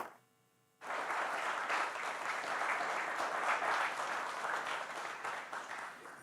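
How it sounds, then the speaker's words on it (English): Conference audience applauding as a presenter walks up to the stage, a dense steady wash of clapping that starts abruptly after a brief quiet moment and holds loud throughout. "let's give him a round of applause as he comes up"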